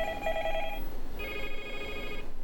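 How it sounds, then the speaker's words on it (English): A telephone bell rings in two clear bursts, the second after a short gap, loud and close with no one talking over it. "phone rang"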